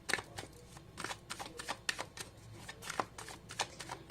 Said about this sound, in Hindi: इस पर कुछ कार्ड्स निकालना चाहूंगी